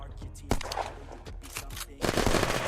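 Gunfire in the video game Unturned, a quick series of sharp shots and short bursts that ends in a dense volley, with a voice speaking over some of it.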